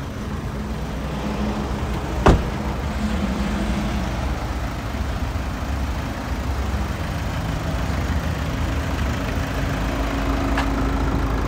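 A 2009 Volkswagen Jetta TDI's 2.0 liter inline four diesel engine runs steadily, a constant low idle rumble heard up close with a single sharp click partway through.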